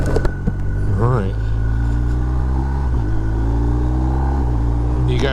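A BMW R1250R motorcycle ridden on a bendy road, its engine and exhaust giving a steady, close droning hum with layered tones and brief pitch slides as the throttle changes.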